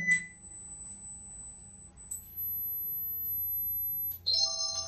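Speaker test on a second-hand phone: a few short electronic beeps, then a sustained high tone that shifts to stacked chime-like tones near the end, fairly faint and without talk.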